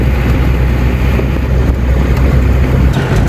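A jeep driven along a rural road past mustard fields, its low engine rumble buried under heavy, constant wind buffeting on the microphone, loud and steady throughout.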